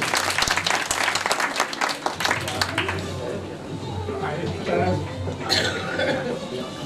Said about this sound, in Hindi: जोरदार और जोरदार तालियां होनी चाहिए